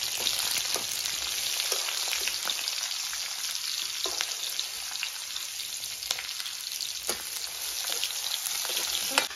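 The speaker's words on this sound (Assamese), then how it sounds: "পিঁয়াজখিনিও ধুনীয়াকৈ ভাজি লাগি গ'ল" Onions sizzle and crackle in hot oil, a dense, continuous frying hiss close by with occasional sharper pops, and no voices.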